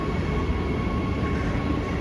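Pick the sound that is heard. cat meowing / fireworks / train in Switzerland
train in Switzerland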